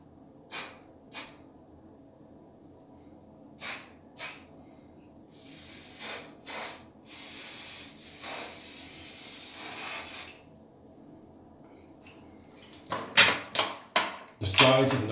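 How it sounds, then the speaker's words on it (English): Hairspray misted from a can onto the top of a rockabilly pompadour, several short bursts and longer hisses spaced apart, close by, with rustling and handling sounds near the end. "hairspray again. A safe distance, again, only on top."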